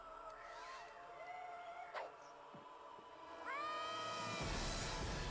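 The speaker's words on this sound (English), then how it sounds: "The screaming cat gets me every time." A cat screams with several rising and falling yowls and wails, moderately close but fairly quiet, followed by a louder harsh screeching cry near the end over a noisy background.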